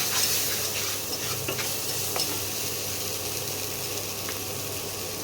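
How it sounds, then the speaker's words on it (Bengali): Kashmiri chilli powder frying in hot oil for a potato kofta curry, a steady close sizzle with a few faint scraping stirs, no voices. "তেলের মধ্যে দিচ্ছি কারণ রঙটা খুব সুন্দর হবে ওই জন্যে দিচ্ছি কাশ্মীরি লঙ্কার গুঁড়ো এক চামচ দিয়ে দিলাম"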